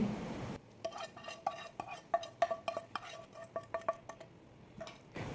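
Tempering being stirred into masala puffed rice in a pan, producing a series of light scraping and clinking strokes against the metal, quiet and close, with brief pauses between them.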